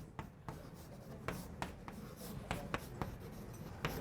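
Chalk or marker writing on a board during a calculus lecture, a series of short scratchy strokes and taps at irregular intervals, fairly quiet and close, with no talking.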